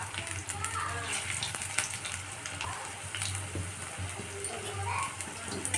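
Vegetable pakora fritters dropped into hot oil in a kadai, giving a steady close sizzling and bubbling that runs throughout with small pops, under a low background hum.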